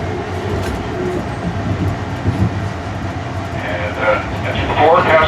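Amtrak train of 1975 and 1977 vintage Amfleet coaches rolling on rails, a steady loud rumble from inside with rising squeal and clatter toward the end.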